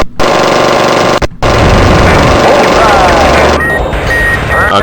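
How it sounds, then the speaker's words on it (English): In the Fighters Anthology flight game, an enemy jet's cannon hits an F-14 Tomcat in loud, rapid, rattling bursts with two brief gaps, the engine roar continuing beneath. "he hit us pretty good with the cannon"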